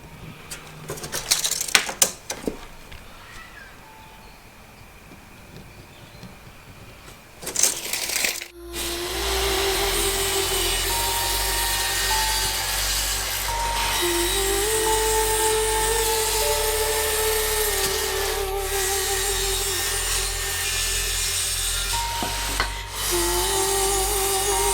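A saw ripping wooden boards to length, running loud and steady with a sustained whine after a few knocks and clatters at the start, close by with no talking.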